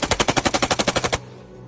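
Rapid burst of automatic gunfire outside a city administration building, about thirteen evenly spaced loud shots in quick succession, then abrupt stop leaving a faint background hum.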